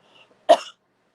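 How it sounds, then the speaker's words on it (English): A single short, sharp cough rings out close by, following a faint murmur in an otherwise quiet room. "I'm still coughing"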